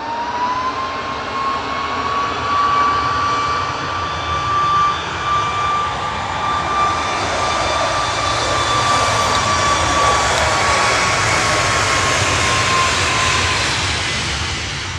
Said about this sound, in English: Ryanair 9HB UK departing to Ibiza with flight 1263.